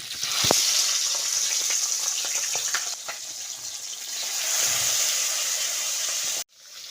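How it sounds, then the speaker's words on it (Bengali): Loud, steady sizzling of marinated tangra fish frying in hot oil, with a few sharp pops and crackles, ending abruptly. "মাছগুলো ম্যারিনেট করে রেখেছিলাম সেইগুলো তেলের মধ্যে একে একে দিয়ে দিচ্ছি"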